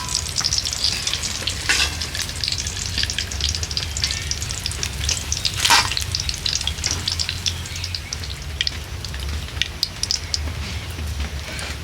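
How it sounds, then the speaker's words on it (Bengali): Stuffed pumpkin-leaf rolls deep-fry in hot oil, giving a loud, continuous close-up sizzle and crackle with occasional sharper pops throughout. "বাকি রোলগুলোকেও একই রকমভাবে ভেজে নেব।"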